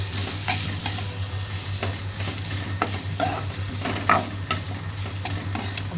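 Ginger, garlic and onion sauté in a hot pan as a steady close sizzle, with regular stirring scrapes and light clinks of the utensil against the metal, all without any voices.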